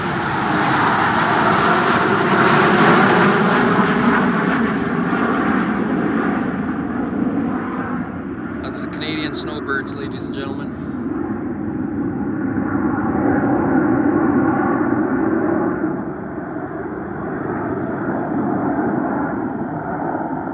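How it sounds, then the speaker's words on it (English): A jet aircraft passes overhead at an RV site, a loud, broad roar that swells and fades gradually over about twenty seconds, with a brief clatter in the middle. "Got a jet flying over."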